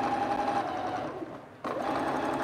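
A sewing machine stitches steadily with a close, continuous whirring hum, pausing briefly before resuming at the same pace.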